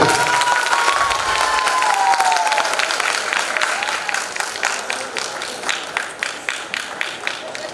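Audience applause at a folk arts festival award ceremony in Brahmapur, 2023: dense, sustained clapping from a crowd that gradually thins into more separate, rhythmic claps, with a faint tone lingering early on.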